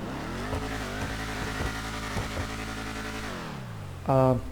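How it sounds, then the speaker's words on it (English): A video-game Vapid Dominator ASP car engine revs and drones continuously, its exhaust pitch sliding up and down through gear changes, ending in a brief louder burst. "I can still find traces of the older Dominator car exhaust on this"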